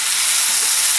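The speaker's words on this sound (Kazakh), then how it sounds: "пиязмен етін қуырып отырмыз" Meat and onions fry in a pan with a steady, close, hissing sizzle that continues without a break and has no talking over it.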